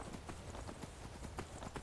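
Horse hooves clop up stone steps in Skyrim, a quick steady run of close thuds over a dense background wash.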